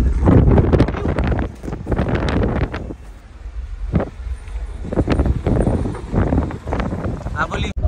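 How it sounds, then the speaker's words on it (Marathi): Strong wind roars and buffets the microphone aboard a boat leaving Mumbai, gusting loudly in uneven surges with a brief lull midway, while voices speak over it. "फुल हवा."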